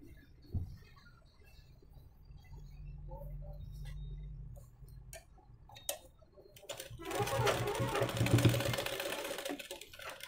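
A sewing machine stitches fabric for a girl's umbrella dress in one fairly quiet burst near the end, after faint handling clicks and a low hum.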